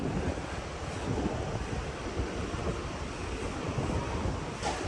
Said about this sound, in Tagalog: Sarap ng hangin dito.